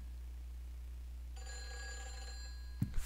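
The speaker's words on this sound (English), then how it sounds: "Phone's ringing." Telephone in the video game Silent Hill 4 rings once with a bright electronic bell tone over a quiet low hum, followed by a couple of soft thumps.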